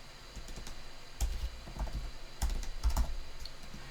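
Fingers tap on a computer keyboard in a quiet room, several short bursts of crisp clicks with a few heavier key thumps, close and distinct with no talking.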